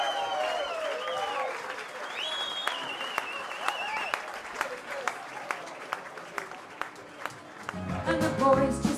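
Audience applause and cheering welcoming a singer onstage at the Audi ski races event in Kitzbühel, a dense steady wash of clapping with a sustained tone and scattered sharp claps, swelling louder near the end.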